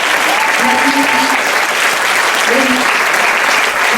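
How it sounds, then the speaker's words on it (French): Applause from an audience at a burlesque show, loud, dense and sustained clapping throughout, with faint voices and tonal sounds mixed in underneath. "Et on peut aussi les applaudir."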